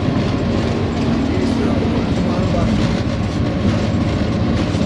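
A Pakistan Railways locomotive runs along the tracks near Lahore's Dharampura crossing, its constant heavy rumble and rhythmic wheel clatter loud and close from inside the cab.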